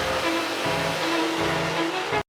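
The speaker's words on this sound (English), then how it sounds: "That's a vacuum." Dental suction vacuum running during a tooth extraction, a loud continuous hissing rush with a low pulsing undertone that stops abruptly at the end.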